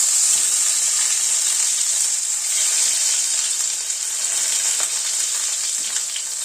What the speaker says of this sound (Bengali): গ্যাসের ফ্লেমটাকে মিডিয়ামে করে বেগুনগুলোকে ভেজে নিচ্ছি